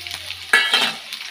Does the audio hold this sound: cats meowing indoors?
no